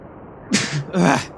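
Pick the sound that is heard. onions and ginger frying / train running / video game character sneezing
video game character sneezing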